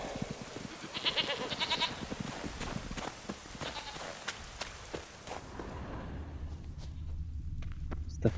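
In The Witcher video game, short goat bleats ring out near the start amid a steady run of footsteps and quiet outdoor ambience, the calls brief and moderately loud before fading into walking sounds.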